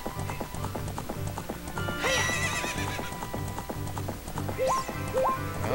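Horse in The Legend of Zelda: Ocarina of Time gallops with steady rhythmic clip-clop hoofbeats and gives two sharp whinnies, game music running underneath.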